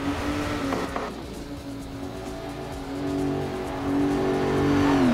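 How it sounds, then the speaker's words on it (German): A race car in Forza Motorsport pulls out of its pit box, the engine droning steadily and then rising in pitch as it accelerates, with a faint tire squeal and the engine growing louder toward the end. "wenn Ihr Auto aus Ihrer Box fährt"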